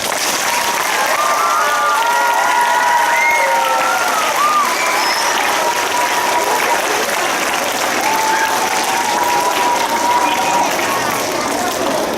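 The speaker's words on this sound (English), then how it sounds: "can we give all the superheroes a great big clap?" Children at a school assembly clap steadily for about twelve seconds, a dense, loud wash of hand claps mixed with young voices calling out.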